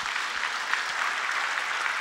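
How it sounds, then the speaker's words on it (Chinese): Audience applause at a company promotion event, a dense, steady wash of many hands clapping together at moderate distance, with no voices over it. "给自己一个掌声"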